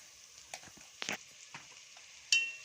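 Spices and ginger garlic paste frying in a pan, with a faint sizzle broken by a few sharp scraping stirs and one louder clatter near the end.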